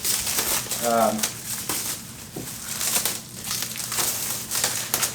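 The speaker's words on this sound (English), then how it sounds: "I hope you're all being entertained right now by me just going round and round with cellophane" Cellophane wrap peeled off a giclée art canvas, crinkling and crackling in irregular bursts at close range, with a voice talking over part of it.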